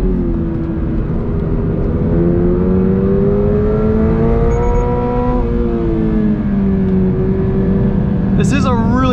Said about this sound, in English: the artificial engine sound being piped into the cabin